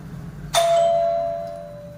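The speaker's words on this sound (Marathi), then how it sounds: "बेल वाजली" A single electronic doorbell chime rings out clearly and close, then fades away slowly over a couple of seconds in a quiet home.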